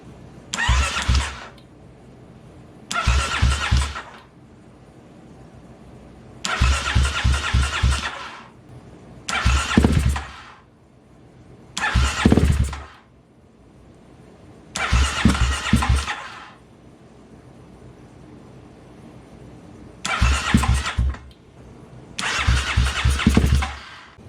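A Kawasaki KLX351 motorcycle engine is cranked over in repeated bursts of a second or two each, about eight attempts separated by quiet gaps, each a loud, close mechanical churning that never catches and settles into running.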